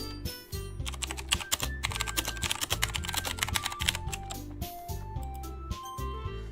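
Rapid clicking and typing on a computer keyboard, caught close by a new microphone, runs as a dense, uneven clatter of keystrokes for several seconds, with no talking.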